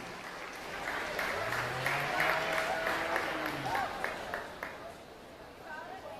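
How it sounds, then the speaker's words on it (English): Audience applause for youth livestock show exhibitors at an evening county youth fair, a steady moderate clapping wash over several seconds with a tonal hum and a voice faintly beneath. "Let's have a round of applause for all of our Class 4 exhibitors."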